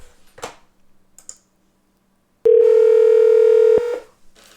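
An outgoing phone call: a few faint key taps, a short silence, then a loud steady tone lasting over a second before it fades and quiet noise returns.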